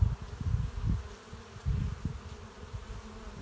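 Honeybees buzzing around a hive, a dense low drone swelling and fading in waves close by with no voices.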